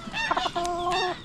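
Farm chickens in a coop cluck nearby in a quick run of short calls, followed by one longer drawn-out squawk, with no talking over them.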